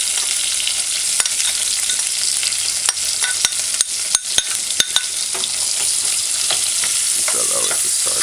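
Onions sizzle loudly in a hot pan, a dense continuous frying hiss with occasional sharp pops and scraping stirs, close up and without talk.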